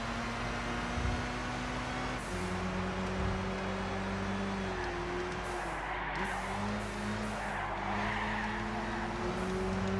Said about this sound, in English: Right, we're overtaking another Mazda